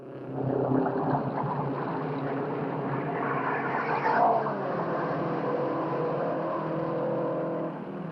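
Race cars thunder past at the 1958 Indianapolis 500, a loud, continuous engine roar with a rising pass in the middle, heard without talk over the track.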